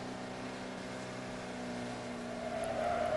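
A 1980 Audi Coupe takes a bumpy corner at just over 100 km/h, its steady engine drone and road roar rising slightly toward the end, with a whine building in the last half second.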